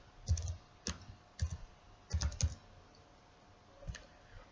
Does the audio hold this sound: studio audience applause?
no